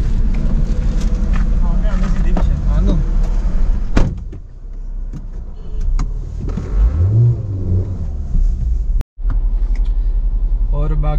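A car engine idles and revs during a roadside pollution emissions test, a steady close rumble with a few rising revs, while people talk over it.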